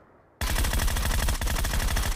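Rapid automatic gunfire in the video game PUBG, a loud and continuous burst of evenly spaced shots that starts abruptly after a moment of quiet and plays alone.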